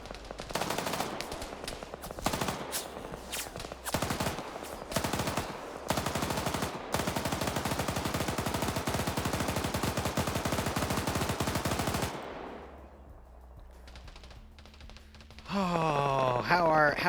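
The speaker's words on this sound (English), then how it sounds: "they got on the 50 and they started shooting at the vehicles" Heavy machine gun fire from a .50-caliber mounted gun in a military video game, with long rapid bursts at a vehicle, loud and sustained before fading into quieter ambience and a brief voice.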